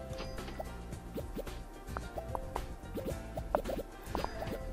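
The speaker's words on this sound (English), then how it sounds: "Get those bubbles going." Bubbles pop and drip in the Game Dev Tycoon video game, a quick irregular stream of small liquid plops and bloops over a soft game background, with no talk.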